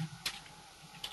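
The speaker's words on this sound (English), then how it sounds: "Someone's typing." A few quick keyboard keystrokes tap on a computer keyboard in a quiet room, the clicks sparse and brief with no talking.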